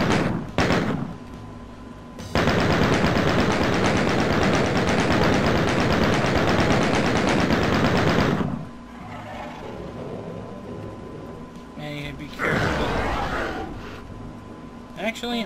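Plasma gun firing in classic Doom: a dense, unbroken rapid-fire barrage lasting several seconds, then quieter intermittent game sounds and short bursts, with someone talking over parts of it.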